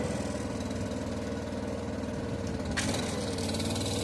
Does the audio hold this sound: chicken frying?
no